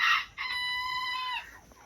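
A young Mini Garnisé bantam hen lets out a single drawn-out cluck-like call in her pen, first a short sharp note and then a sustained tonal cry of about a second, close and clear, with no talking.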